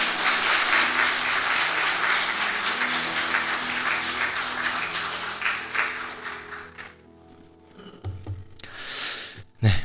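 A church congregation applauds together at a New Year special evening worship service, a dense, steady wash of clapping that fills most of the stretch before tapering off, with a short burst of sound near the end.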